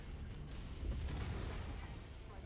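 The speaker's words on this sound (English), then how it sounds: "Cannon fire." Cannon fire in the mech combat game Mechwarrior 5: Mercenaries: a heavy, low, rumbling boom that swells briefly in the middle of the clip over a steady background din.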